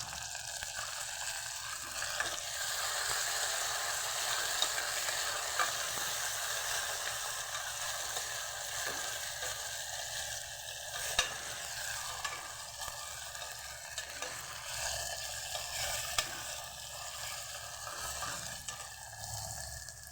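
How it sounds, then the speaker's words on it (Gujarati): Tomatoes sizzle steadily in a hot pan with garlic, a continuous crackling hiss with faint scraping from stirring and no talking. "હવે આપણે એમાં ટમેટા ઉમેરી દઈશું"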